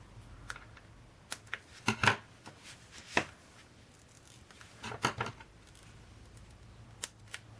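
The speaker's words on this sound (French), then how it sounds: "Mon ciseau." Scissors snip through ribbon on a Christmas pop-up album page, a handful of sharp, close cuts scattered among quiet pauses and light handling rustles.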